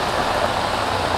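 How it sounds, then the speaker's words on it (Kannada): Heavy, steady rain pours over Bengaluru streets around Richmond Town and Town Hall, a dense continuous hiss with no breaks and no voices across the short stretch. "ಕಳೆದ 5 ಗಂಟೆಯಿಂದ ಸುರಿದಂತಹ ನಿರಂತರ ಮಳೆಯಿಂದಾಗಿ."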